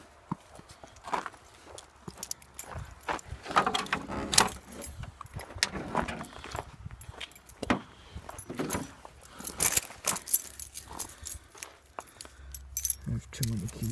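An oversized bunch of keys jangles and clinks in irregular, close bursts for about fourteen seconds, while someone talks intermittently over the metallic rattling.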